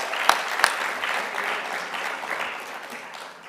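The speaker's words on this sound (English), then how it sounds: "let's give them a big round of applause once more" A big round of applause fills the hall at a regional exporters awards ceremony in Southern Africa, with two sharp claps standing out at the start and dense, steady clapping continuing throughout.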